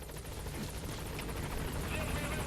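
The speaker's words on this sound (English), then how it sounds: "This moving convoy might spot the helicopter depending on how soon they go by." A video game helicopter approaches a landing zone, its steady rotor thrum holding broad and loud throughout while a voice talks over it.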